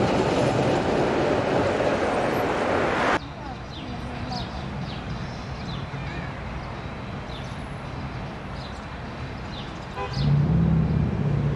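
A tram passes by new, tightly packed apartment blocks in a Romanian city, a steady rolling rumble with faint clicks and rail squeal at moderate distance, running under continuous talk.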